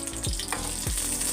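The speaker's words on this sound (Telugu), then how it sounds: "బబుల్స్ పచ్చిమిరపకాయల్లో బబుల్స్ వచ్చిన దాకా వేయించుకోవాలండి." Green chillies fry in a spoonful of oil for palli chutney, a continuous close crackling sizzle with two short swooping pops over its brief span.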